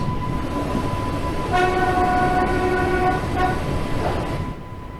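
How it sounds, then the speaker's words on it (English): A simulated train on the Isle of Wight line in Train Sim World 2 rumbles steadily as it comes to a stop, a loud sustained horn blast sounding over the running noise before the rumble fades at the end. "let's stop the train here"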